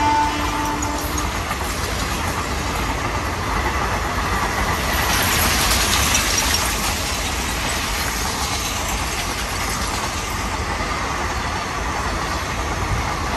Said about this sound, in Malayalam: കണ്ടോ ട്രെയിൻ ഭയങ്കര സ്പീഡിലെ ട്രെയിൻ ആണ്